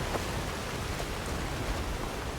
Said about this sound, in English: Since we have a stormy, rainy day